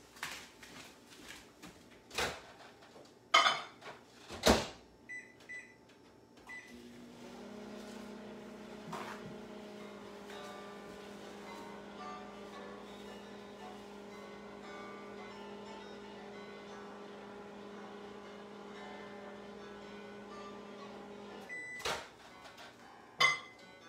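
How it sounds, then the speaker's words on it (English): A kitchen microwave oven hums steadily for about fifteen seconds while heating, preceded by a few clunks of the door and handling, with a faint click or beep at the end; no one speaks. "I'm just gonna throw that in the microwave for like 10 or 15 seconds"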